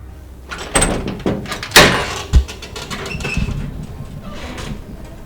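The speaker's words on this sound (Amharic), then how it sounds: "በዚህ ጠዋት የኛን በር የምታንኳኳ ነው?" A handful of sharp knocks and thuds at a door, irregularly spaced, with one loud bang in the middle against a faint room background.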